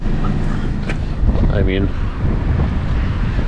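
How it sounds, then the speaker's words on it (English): Strong wind buffets the microphone on a stormy coast at Ireland's westernmost point, a loud, constant low rumble and roar throughout, with someone speaking briefly over it. "Yes, it's windy,"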